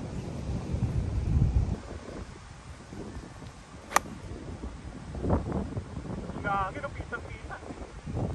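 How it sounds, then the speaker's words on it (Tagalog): Gusts of strong wind buffet the microphone in low rumbling bursts while people talk over it outdoors on a golf course, with a sharp click midway. "Extreme against the wind."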